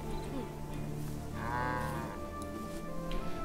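A cow lowing in Guild Wars 2, one drawn-out moo over a steady ambient game backdrop, moderately close.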